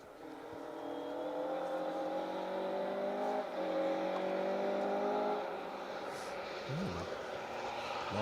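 A Mark II rally car drives through a forest stage of the Roger Albert Clark Rally, its engine droning steadily and shifting pitch as it passes, with the sound fading toward the end.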